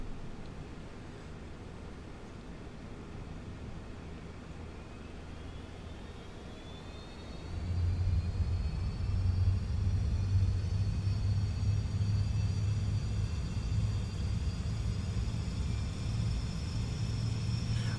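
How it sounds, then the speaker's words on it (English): The APU of a Fenix A320 airliner in Microsoft Flight Simulator 2020 spools up: a steady background hum, then rising high-pitched turbine whines and a deeper roaring rumble that swells in and holds steady. "then we can start the APU, and then jump back here and we can listen to that bad boy spool up."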